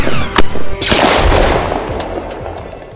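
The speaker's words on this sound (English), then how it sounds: "This is a real-life plasma-firing Star Wars blaster." A homemade plasma blaster styled after a Star Wars weapon fires in sharp, loud bursts: two quick cracks followed by a longer roaring discharge that fades out over a few seconds.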